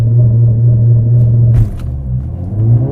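A 2020 Mercedes-AMG CLA 45 4MATIC Plus with a turbocharged 2-liter four-cylinder making 382 horsepower roars loudly and steadily at a race start, its droning engine note dipping briefly midway before rising again.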